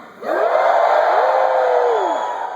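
A live seminar audience screams and cheers together in a loud, sustained burst that swells quickly and holds for about two seconds before easing off.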